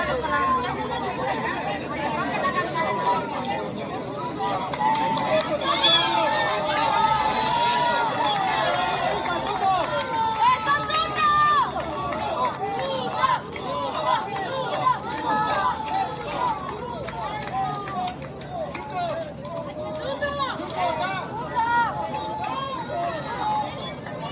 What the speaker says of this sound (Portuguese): ele foi ovacionado ao chegar para votar